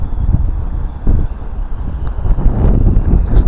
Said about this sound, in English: God, that wind's cold, isn't it?